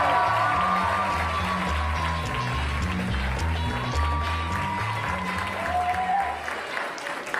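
A comedy club audience claps and cheers steadily for a comedian as he is introduced, a dense, loud wall of applause with whoops over a thumping music bed, easing slightly near the end.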